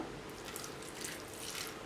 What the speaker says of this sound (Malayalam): ഞാൻ ലേശം പാൽ ഇതിലേക്ക് ഒഴിക്കാം